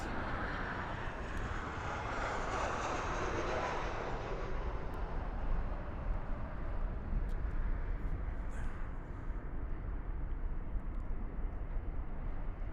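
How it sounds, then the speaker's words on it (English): Southwest Airlines Boeing 737 arriving at Las Vegas Harry Reid International Airport, a steady broad jet roar that swells early and holds loud and continuous throughout, with no talk over it. "we have a Southwest flight coming in right behind us"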